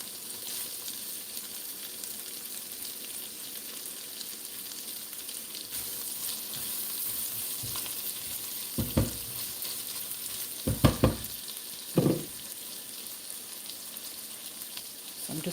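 Onions and garlic frying in a pan, a steady close sizzle throughout, with a few brief clatters of stirring near the end.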